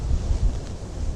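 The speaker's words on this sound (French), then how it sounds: "malgré ce vent qui souffle très fort" Strong wind buffeting a microphone outdoors, a close, low rumbling gusty noise that swells and dips briefly.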